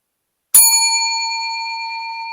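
A digital bell gives a single sharp strike with bright, clear ringing overtones that sustain and fade slowly over about two seconds, heard alone in silence.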